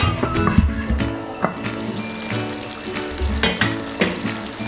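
Chicken cooking with chopped raw mango in a pan, stirred and mixed over a continuous sizzle, with soft knocks and scrapes of the spoon recurring every second or so, close and fairly loud.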